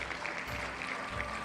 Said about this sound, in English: Hope you enjoy all these lovely applause coming through